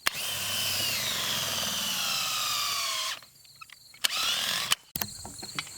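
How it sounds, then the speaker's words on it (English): Power drill driving a hay sampling probe horizontally into a hay bale, a long loud whirring grind that stops, then a short second burst followed by clicks and handling noises. "Make sure that you hold your drill horizontally"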